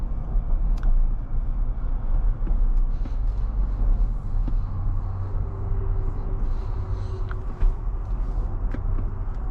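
Steady low road and engine rumble from inside a 2022 Jeep Wrangler Unlimited Sahara 4xe plug-in hybrid while driving, a continuous droning hum with faint rattles and no talking.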